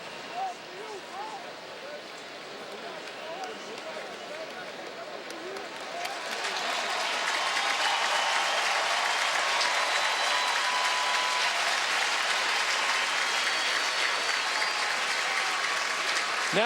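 Stadium crowd at a college football bowl game, Tulane versus Louisiana–Lafayette, applauding a player, quieter and scattered at first, then swelling after a few seconds into loud, sustained clapping and cheering across the stands.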